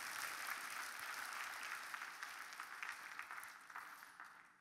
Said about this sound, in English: give the Lord a hand clap right there.